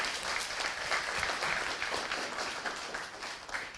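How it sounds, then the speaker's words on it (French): An audience at a university evening conference on business creation applauds the speakers, a steady, dense wash of clapping that holds throughout, moderately distant. "je crois qu'on peut les applaudir"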